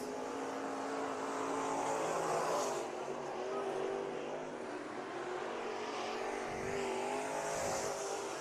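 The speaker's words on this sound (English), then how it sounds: "we have the modifieds come out for their heat races." Modified race cars roar around the dirt oval at Bakersfield Speedway during heat races at the Budweiser Nationals, a dense continuous engine drone with rising passes and revs, loud and sustained across the whole stretch.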